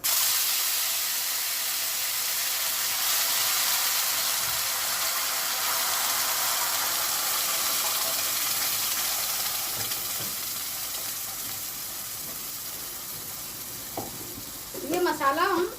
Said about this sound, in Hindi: मसाला देखिए जीरा पक चुका है तो अब हम ये मसाला डालेंगे।